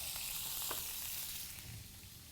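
Steak sizzling and frying in a hot pan, a steady hiss of spattering fat close by with a couple of brief crackles and no talk.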